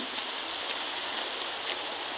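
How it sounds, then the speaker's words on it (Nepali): Steady monsoon rain falls in Kirtipur, Nepal, a dense, even hiss of drops that continues unbroken and fairly close, with no voices. "त्यही भएर आज पानी पर्यो"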